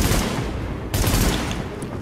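Rapid bursts of gunfire in the video game The Division, dense repeated shots forming a continuous fusillade with a sharp louder crack partway through, heard loud and close.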